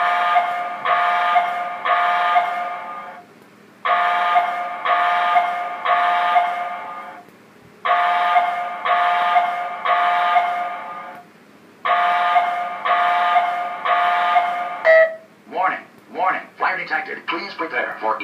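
Aperture Science facility fire alarm from the video game Portal: a loud, repeating harmonic alarm tone sounds in three bursts of three pulses, separated by brief gaps, with a choppier warbling stretch at the end.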